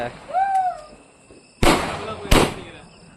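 Two loud, sharp firecracker bangs burst in quick succession outdoors during Diwali celebrations, following a few whistling tones, with voices nearby.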